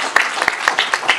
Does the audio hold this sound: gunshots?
no